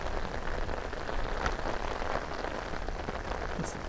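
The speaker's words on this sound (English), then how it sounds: "it's a lovely, heavy, straight down kind of rain." Heavy rain falls steadily straight down by the sea, a dense continuous hiss with scattered closer droplet patters, no voices.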